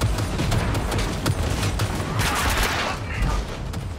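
Gunfire in a Cyberpunk 2077 firefight, rapid overlapping bursts and cracking shots with booming impacts, loud and dense throughout, with a voice briefly speaking over it.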